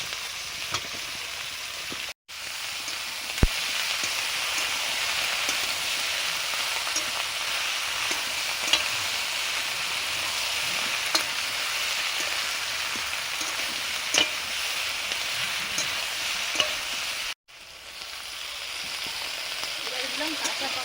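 Eggplant frying in hot oil in a pan, with a loud, continuous, hissing sizzle and occasional small stirring clicks that runs steadily, broken by two brief cuts.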